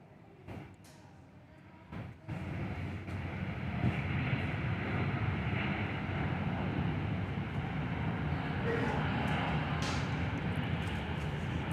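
A Virgin Australia airliner lands at Perth airport during runway maintenance, a steady broad engine roar that swells after a couple of clicks and holds for the rest of the clip, distant and continuous.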